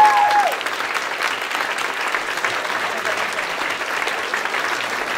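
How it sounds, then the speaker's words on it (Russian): Sustained audience applause at a World Championship opening parade of participants, a dense steady wash of clapping filling the hall for several seconds with no voices over it. "Аплодисменты."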